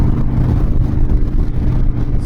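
A Harley-Davidson Dyna Wide Glide motorcycle accelerates on the throttle with a loud, steady, deep engine rumble heard close up, lasting the whole short stretch.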